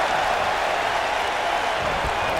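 Stadium crowd noise at a WWE Tampa event in the video game, a steady dense roar of cheering and chanting for Christian that holds at a constant level throughout.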